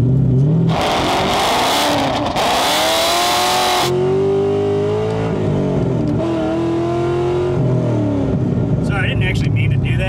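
Cammed V8 Corvette engine revving hard and loud, with a rough, choppy idle between blips and rising throttle sweeps, heard close up with people talking over it.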